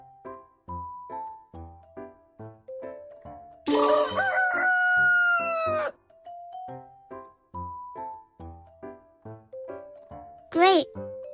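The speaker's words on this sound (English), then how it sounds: "It's a chicken." A rooster crows in a loud burst of about two seconds midway, with a second short call near the end, set against a light musical backing.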